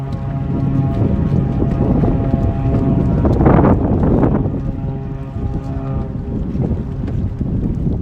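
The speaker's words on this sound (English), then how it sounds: "But how cool is that the seaplane is taking off?" A seaplane takes off from water: a steady engine roar with rushing wind and water noise, swelling briefly in the middle, loud and fairly close, with no voices.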